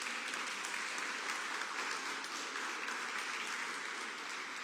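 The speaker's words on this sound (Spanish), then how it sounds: "Denle un aplauso al Señor, por favor." Church congregation applauding, a steady, even wash of clapping from many hands, somewhat distant and moderately loud, holding without pause and without speech.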